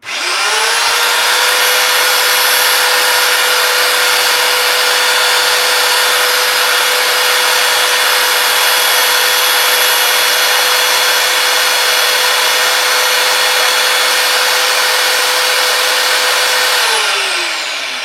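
A belt sander running steadily during belt adjustment, a loud continuous whine with a high tonal hum that holds constant for the whole stretch and then starts to wind down at the end.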